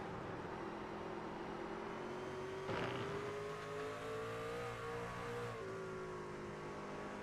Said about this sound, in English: That 99 truck flying back through the field